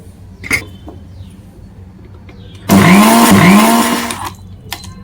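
A kitchen mixer grinder whirs loudly for about a second and a half, grinding cumin powder, tamarind and coriander leaves into a paste with a little water, its motor pitch dipping and rising before it cuts off.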